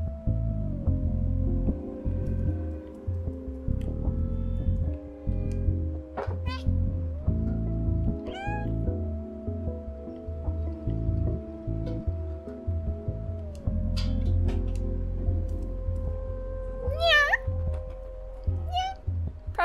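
A cat meows repeatedly in the video game Stray, several short mews scattered over a steady background hum and game music, with a person talking at times.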